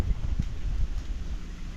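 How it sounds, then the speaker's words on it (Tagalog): Strong wind by a river buffets the microphone in low, uneven gusts, a rough rumbling roar that swells and dips for a couple of seconds. "Mga master, lakas ng hangin oh."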